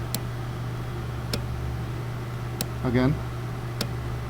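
Sharp, evenly spaced relay clicks, about four of them over a steady low hum, come from a 2013 Porsche Cayenne S 4.8L with a no-crank, no-start fault while the key is turned. One brief word is spoken.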